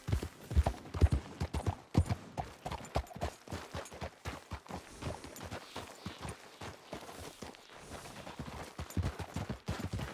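A horse gallops in the Red Dead Redemption 2 video game, its hooves pounding in a fast, steady rhythm of dull thuds that continues throughout, close and moderately loud with no talking.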